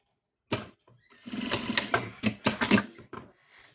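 A domestic sewing machine stitches the side seams of a fabric jumpsuit in short, close bursts of rapid mechanical chatter, starting and stopping several times.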